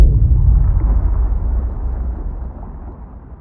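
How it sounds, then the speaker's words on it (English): A deep, rumbling explosion depicting the Big Bang starts with a sharp burst, then rolls on as a loud, sustained low roar that slowly fades over a few seconds, with no voices. "The greatest explosion ever known erupted."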